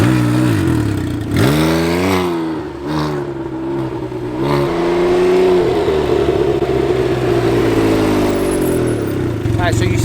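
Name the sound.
Can-Am Ryker three-wheeled motorcycle engine while riding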